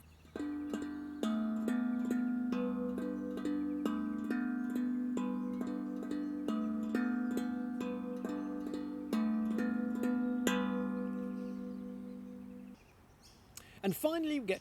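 Double drag taps on a handpan ring out across several notes as a steady stream of bright, resonant strikes with sustained metallic tones. The sound then decays, and a voice briefly enters at the very end.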